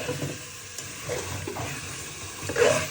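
Chicken cooking in a pan: soft, continuous sizzling with intermittent stirring scrapes and light clinks, close by, swelling slightly toward the end.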